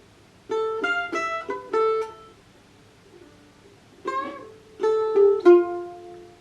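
Two short phrases of bright plucked mandolin notes from a riff, quick picked runs with a bent note at the end of each, separated by a brief pause.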